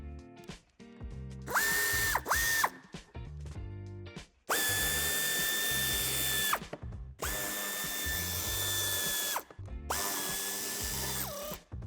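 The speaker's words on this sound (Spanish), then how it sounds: "A continuación quitaremos los tornillos de ambos pasos de rueda y de la parte inferior." A ratchet or power driver backs out wheel arch screws on a 2015-2019 Audi A4 Avant. It runs in four loud whirring bursts of one to two seconds each, with short quiet gaps and clicks between them.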